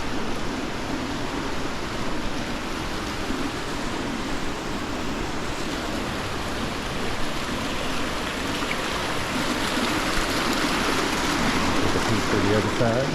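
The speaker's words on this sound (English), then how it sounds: "you got a nice little globe fountain here, running water" Water running steadily from a small globe fountain on a campus veranda with live plants, a continuous soft splashing wash that holds the same level throughout, close and unbroken.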